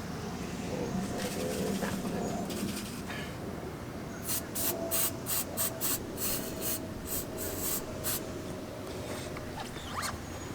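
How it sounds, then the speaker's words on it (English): Hairspray is sprayed onto a stained boat seat in a series of short, sharp hissing bursts, close by, over a constant background rush. "Next one is hairspray."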